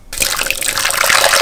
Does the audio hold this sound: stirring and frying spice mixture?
no